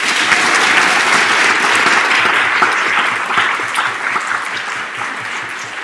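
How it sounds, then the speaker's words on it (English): An audience at a New Zealand schools debating grand final applauds loudly and steadily, a dense clapping that fills the room and fades slightly toward the end. "So please give them a round of applause."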